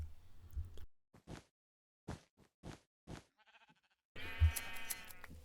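Red sheep being bred in Minecraft bleat in a run of short, separate cries spaced about half a second apart, close and clear between quiet gaps, with louder blocky game sounds at the start and end.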